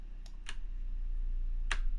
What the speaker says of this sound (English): If I type the key 1